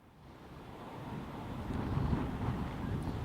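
Strong cyclone winds batter the coast at Mandvi, Gujarat, a loud broadband roar and buffeting that builds steadily with no speech.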